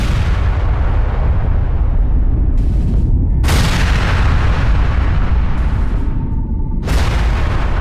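A massive nuclear explosion sending up a mushroom cloud produces a loud, sustained roaring rumble with deep, dense low end, punctuated by a couple of heavy blasts that break through the continuous thunder.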